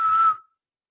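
A voice imitates a referee's whistle at a kids' soccer game, producing one short, steady, high-pitched whistled tone that cuts off abruptly, followed by silence.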